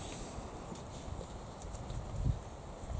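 Goats crowd and shuffle around on a suburban smallholding, their hooves clattering and clopping close by in a busy, uneven patter over steady background noise, with no talking.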